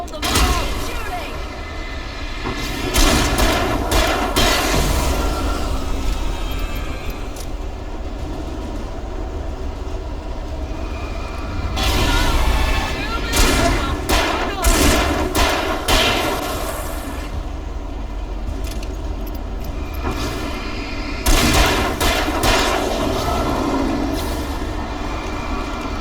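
Sustained gunfire in Alan Wake while holding off attackers beside a slow elevator, heavy bursts of shooting rising and falling over a constant rumbling din, with shouting voices mixed in.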